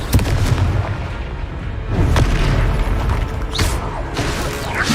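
Booming blasts from a Confringo curse in a Harry Potter video game, several heavy explosive bursts layered over continuous loud game noise.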